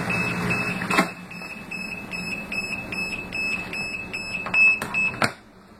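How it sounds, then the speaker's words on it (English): An appliance's safety alarm goes off when its lid is opened: a steady run of shrill electronic beeps pulsing in even rhythm over a low mechanical hum, with a few sharp knocks. "If you open the lid, it will sound the alarm"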